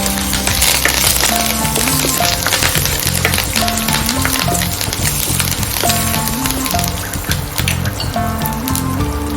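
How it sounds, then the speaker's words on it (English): Asafoetida and curry leaves crackling in hot oil for a South Indian sambar, a loud, dense, continuous sizzle and spatter with rapid pops throughout, close up and without talk. "I'll add asafoetida, and some curry leaves"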